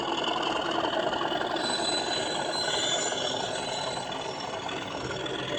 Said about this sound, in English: Flange squeal.